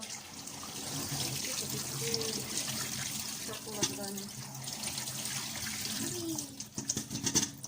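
Apples are washed in a sink under cold running tap water, a steady close stream with splashing and occasional clatter, while a voice talks briefly over it.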